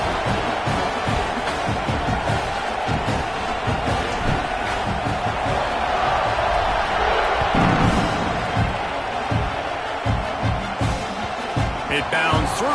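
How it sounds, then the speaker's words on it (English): Stadium crowd at a college football game buzzing with a constant loud roar, while a commentator talks over it throughout. "this crowd is buzzing after that last score"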